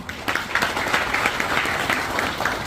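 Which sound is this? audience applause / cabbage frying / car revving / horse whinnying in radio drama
audience applause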